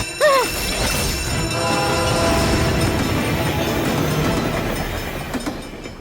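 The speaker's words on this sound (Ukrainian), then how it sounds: "Він закривається, тому що йде потяг" Cartoon train rolling past a closed level crossing barrier, a continuous loud rumble with clattering wheels and a brief whistle-like tone near the start, heard alone without talk.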